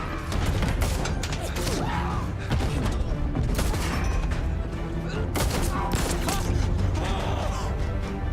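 Sustained Battlefield 1 battle gunfire in a World War I tank fight, dense volleys and crashing impacts running loud and continuous for the whole stretch.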